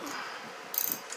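Bolts on a Yamaha XJ700X motorcycle engine tightened during a valve shim adjustment, a brief burst of quick ratchet clicks over a faint hiss in a quiet workshop.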